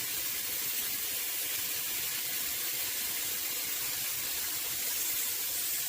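Bacon frying in a pan for smashburgers, a dense, steady sizzling hiss that holds evenly throughout with no breaks and no voices.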